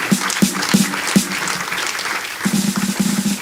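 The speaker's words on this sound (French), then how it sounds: "Alléluia. Acclame pour Jésus" A church congregation claps and applauds in bursts, a steady dense patter of hands with sharper peaks, continuing throughout without any clear speech over it.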